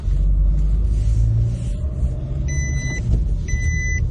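A 2008 Nissan Qashqai with about 182,000 km drives along, its steady low engine and road rumble continuous and close. A few brief high electronic tones sound near the end.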